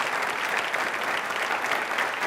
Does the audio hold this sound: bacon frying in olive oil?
no